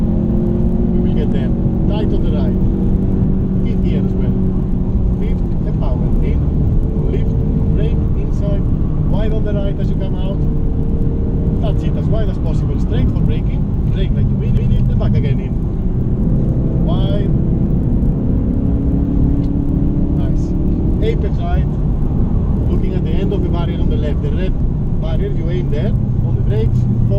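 A Ford Focus RS race car lapping Spa-Francorchamps, its engine droning loudly and steadily the whole time, with pitch climbing and dropping through the gears under continuous instructor talk.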